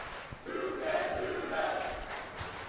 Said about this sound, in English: I love to hear the high energy come from the crowd